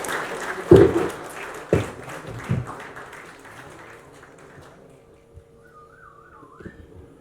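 An audience at a film first look launch gives a short burst of applause with a few sharp claps and a whistle, then it fades into a quiet hall with faint hum.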